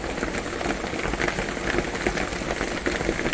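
Steady rain falling during a thunderstorm in the Carolinas, a continuous close hiss of drops on surfaces with no talk and no distinct thunder.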